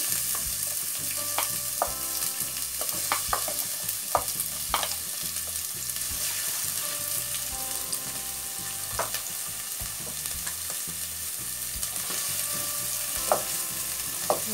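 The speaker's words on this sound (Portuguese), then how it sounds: "Vou deixar dar uma refogadinha aqui." Chopped onion sautés in hot oil in a pot, making a continuous close sizzle with scattered crackles and a few light utensil taps, and no voices over it.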